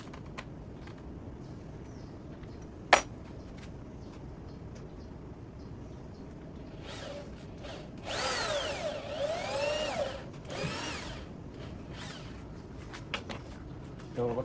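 Power drill driving screws into a wooden tool tote, a loud whirring burst of several seconds with a rising and falling pitch, preceded by a sharp single knock and low workshop background noise.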